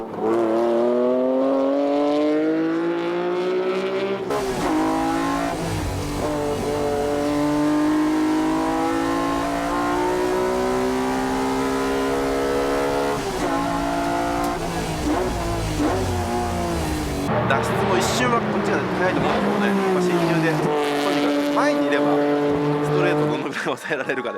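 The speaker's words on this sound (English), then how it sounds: "The Super Taikyu Series driver, Sakai goes out for the time attack" A tuned Honda NSX race car runs a time attack lap, its engine loud and near, repeatedly revving up in rising sweeps, dropping on shifts and braking, with a brief tire squeal and commentary voice underneath.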